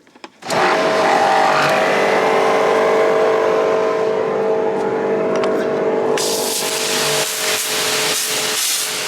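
A KEW 1740c pressure washer under repair starts with a click and then runs with a loud, steady motor drone. Near the end, a harsher hiss of spraying water joins in.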